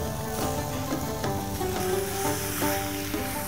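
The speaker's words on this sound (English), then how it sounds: "stir fry it until the pork it's cooked" Pork belly stir-frying with garlic in an oiled pan, a steady close sizzle with a few brief scrapes and knocks of the utensil.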